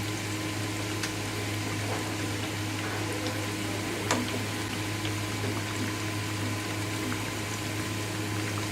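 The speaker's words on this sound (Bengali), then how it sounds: "গরম তেলে ছেড়ে অপেক্ষা করব 4 থেকে 5 মিনিট।" Chicken and prawn chops fry in hot oil over low heat, giving a steady, even bubbling hiss with a low hum beneath it and no talking.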